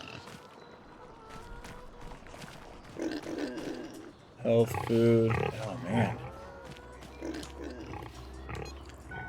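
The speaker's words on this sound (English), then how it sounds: "Holy cow, we do not need this many pigs." Pigs grunt on a mountainside ranch, a cluster of loud close grunts and squeals bursting out midway over steady background noise, while someone talks briefly around them.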